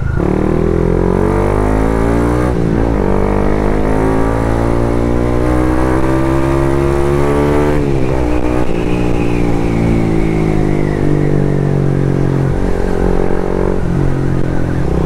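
A Raider 150 Fi motorcycle fitted with an RL power pipe exhaust revs up and down repeatedly, a loud, close, crackling engine note that climbs and falls in several sweeps.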